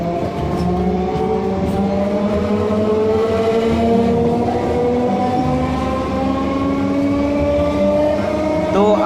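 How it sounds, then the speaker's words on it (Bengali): A passenger train runs from Belgharia station toward Halisahar with a steady, loud rumble and the rolling clatter of its carriages, continuous and close throughout. "আমার ট্রেনটা ছুটে চলেছে"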